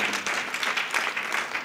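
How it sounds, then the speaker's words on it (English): A church congregation breaks into applause, a dense, continuous wash of many hands clapping together, fairly loud and close, with no distinct talk over it. "Let's clap for Jesus"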